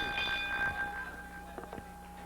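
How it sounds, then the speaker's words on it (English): A wrestling ring bell at a Memphis wrestling match gives a few quick metallic rings that hang and fade, faint against the arena background. "okay, bell time, and here we go."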